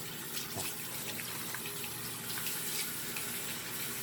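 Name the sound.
water rinsing hair during a shampoo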